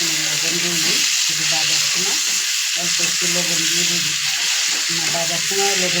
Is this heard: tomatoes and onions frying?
yes